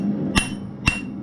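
A hammer strikes a heated railroad spike on an anvil while a knife is forged: two sharp metallic ringing blows about half a second apart, close and loud, each ringing briefly before fading.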